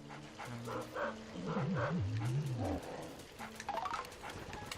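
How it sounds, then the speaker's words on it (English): Spooky, the ghost dog in the Luigi's Mansion video game, barks, yips and whimpers in a run of warbling calls over faint in-game background sound. "this is Spooky the dog"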